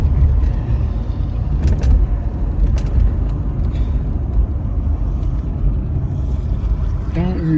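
A repaired car engine idles and rumbles steadily up close as the car is driven, with people talking over it and a whistle-like chirp near the end.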